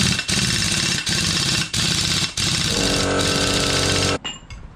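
Pneumatic impact wrench rattling wheel nuts onto the studs of a Toyota HiLux LN106 4x4, a loud continuous hammering buzz in several close bursts with brief pauses, ending abruptly.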